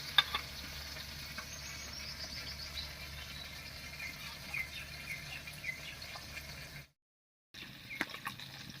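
A soft, steady sizzle of fish frying in a pan, faint and continuous, with a brief silent gap near the end.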